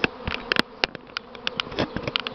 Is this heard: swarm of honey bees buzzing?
yes